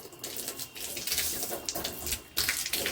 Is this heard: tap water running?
yes